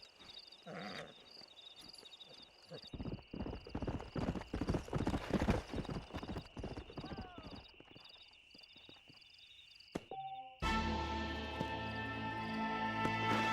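Horse hooves clip-clop steadily in the Red Dead Redemption Wild West game, a close rhythmic walking beat with a brief whinny among ambient chirps, before louder music swells in near the end.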